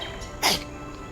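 A single short, sharp human sneeze bursts out once in the middle of a quiet indoor room, close and fairly loud, with nothing else around it.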